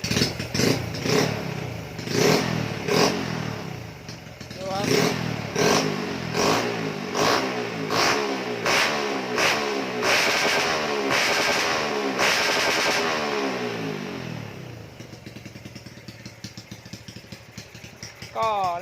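A Honda Dream Super Cup motorcycle with a stock stroke engine revs repeatedly, loud and close, in sharp rhythmic bursts that rise into a sustained high rev and then drop back to a ticking idle.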